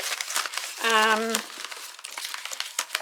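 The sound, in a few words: handling paper envelopes from a folder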